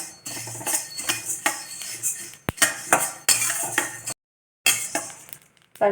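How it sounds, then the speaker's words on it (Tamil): Coriander seeds dry-roasting in a pan for a dry ginger coffee rattle and clink against the metal as they are stirred, in quick bursts of clatter with a brief silent gap, close and fairly loud. "இதுலேயும் ஒரு சவுண்டு வருது சீக்கிரமாக தனியாக ஃப்ரை ஆகிடும்"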